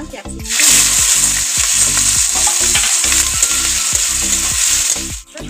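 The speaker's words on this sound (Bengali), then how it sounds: "ক্যাপসিকামটা আমার হালকা ভাজা ভাজা হয়ে গেছে।" Onion and capsicum frying in oil in a pan, a loud continuous sizzle with a regular rhythm of stirring scrapes running underneath, close by and with no talking.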